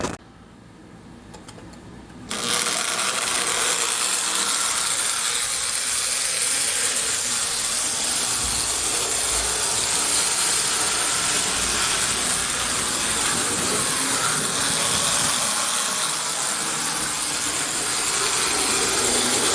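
Lionel 1700E toy train fitted with a Marx motor running on its track, giving a steady loud whirring, hissing rumble that starts after a short quiet moment and continues evenly.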